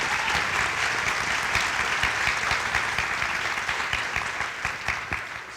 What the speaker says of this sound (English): Can we just give all these people a huge round of applause?